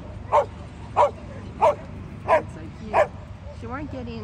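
Dogs excited by a bouncing Swiss ball let out five evenly spaced sharp barks, close and loud, followed by a brief whiny yelp over a low background murmur.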